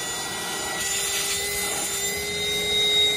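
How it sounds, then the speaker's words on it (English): A Ryobi 18V cordless box vacuum runs steadily, sucking at a shotgun shell held against its nozzle, with a constant airy roar and a thin whine, close and continuous, with no voices. "Let's see if it can suck this shotgun shell and just hold it in place."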